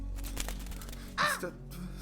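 A black crow on a windowsill in Japan gives one loud caw followed by a shorter trailing note, standing out over a low steady background.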